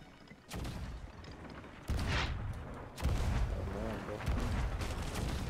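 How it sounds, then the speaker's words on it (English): Gunfire and cannon booms in a Sea of Thieves galleon battle, several heavy blasts at intervals over a continuous rumble of ship noise, loud and close, with voices talking underneath. "One guy shooting."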